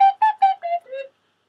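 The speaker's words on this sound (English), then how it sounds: "Again, here's my flutophone." Small plastic flutophone played normally, five short breathy notes in a quick descending phrase, close and clear with no other sound.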